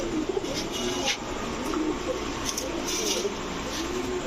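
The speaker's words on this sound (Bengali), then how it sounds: "চুইঠাল দুধ খাকি মাদি কবুতর" Soft, repeated cooing of pigeons kept for sale close by, including a female khaki pigeon, several low murmuring calls overlapping over a steady background hum.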